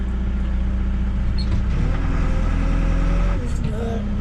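A backhoe engine runs loud and close in a steady diesel drone while the clam bucket is worked, with a shift in pitch partway through and a hissing release near the end.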